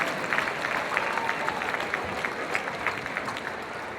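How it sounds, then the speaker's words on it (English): Audience applause fills a gym at the 2016 varsity girls county basketball tournament final, steady dense clapping from a crowd sustained loudly throughout without pause. "Please give a round of applause for the 2016 Varsity Girls All-Tournament team."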